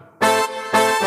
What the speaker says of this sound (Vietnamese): đầu tiên đó là tiếng brass